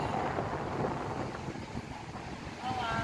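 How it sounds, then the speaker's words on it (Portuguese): Strong wind buffets the microphone at the top of a lighthouse overlooking the sea, a steady rushing roar that swells and eases slightly, with faint voices underneath. "Eita, que o vento bate forte aqui."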